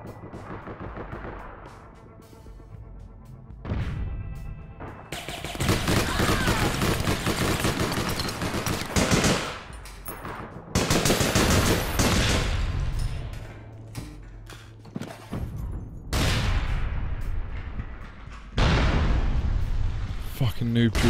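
Rapid bursts of gunfire in the online shooter game APB Reloaded, loud and close, coming in repeated volleys separated by brief quieter gaps, with a voice talking over parts of it.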